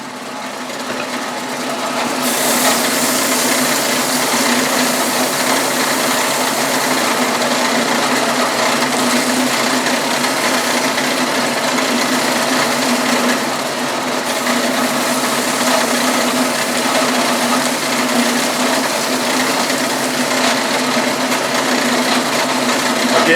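A power tool whines steadily and loudly while dressing the face of a valve from an SP cylinder head, a constant high-pitched grinding hum that starts abruptly after a couple of seconds and holds with little variation.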